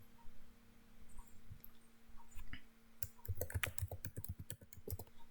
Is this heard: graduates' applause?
no